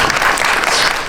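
A burst of loud audience applause at a film screening talk event, dense and steady, filling the whole moment without any talking.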